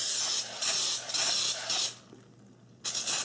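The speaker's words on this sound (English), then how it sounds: "I'm gonna use some fat spray here and a bowl." Several short bursts of cooking fat spray hiss close up into a bowl, each about half a second, with brief pauses between and one final spritz after a gap.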